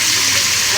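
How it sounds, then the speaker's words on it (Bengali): Mustard paste fries in a pan with a loud, dense, steady sizzle and hiss, very close, over a brief fraction of a second. "এইভাবে সরিষা বাটা দিয়ে নেড়ে চেড়ে নিতে হবে"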